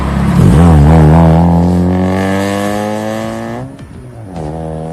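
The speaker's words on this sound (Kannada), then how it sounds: "ಮತ್ತು ಇದರ ಎಕ್ಸಾಸ್ಟ್ ಸೌಂಡ್ ಕೇಳಿದ್ರೆ ತುಂಬ ಸೈಕ್ ಅಂತ ಹೇಳ್ಬೋದು" A Honda Civic sedan's 1.8-litre four-cylinder petrol engine with automatic transmission revs hard and close, its exhaust note climbing sharply to a loud peak, then easing down, then rising briefly again.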